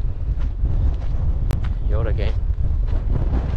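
Strong wind buffets the microphone at a campsite near Bahia de Los Angeles, a loud, steady low roar filling the whole stretch, with brief speech partly buried beneath the gusts.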